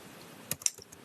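Keys on a computer keyboard click a few times in quick, light taps over a faint steady background hum, close but quiet.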